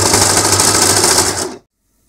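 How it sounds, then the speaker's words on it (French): An overlock serger stitches a T-shirt collar onto the fabric, its loud, fast, steady mechanical whir running close by for about a second and a half before stopping abruptly into silence. "Ici, on va coudre en ajustant juste pour que le col épouse bien"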